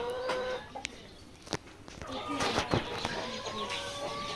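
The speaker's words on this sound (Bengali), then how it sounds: "এখানে রয়েছে ফার্মে মিশরি এবং লেয়ারের তিন মাস প্লাস দেখতে পাচ্ছেন" Three-month-old Misri and layer chickens on a farm cluck and squawk in scattered short calls, fairly close, with voices talking underneath.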